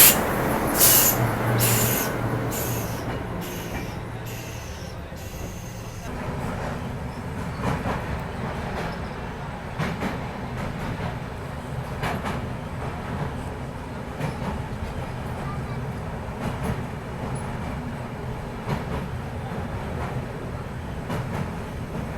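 Indian train running, heard from inside a luggage-cum-generator van on the way to New Delhi railway station, a continuous loud rumble with rhythmic clicking of wheels over rail joints.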